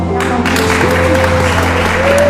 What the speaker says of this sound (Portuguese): Pode bater palma.